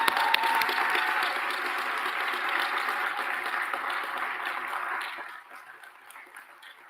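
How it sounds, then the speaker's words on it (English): Another round of audience clapping for graduates of an ATDM Cohort 18 manufacturing training program, steady and full for several seconds before tapering off into lighter, sparser claps. "Have another round of applause for all of you all."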